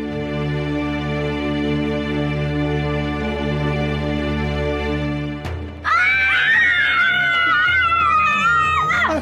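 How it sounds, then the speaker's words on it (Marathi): Children scream in a sudden burst of shrill, overlapping cries that cut in after a stretch of steady music and continue loud to the end. "किंचाळताय कशाला कारट्यानो?"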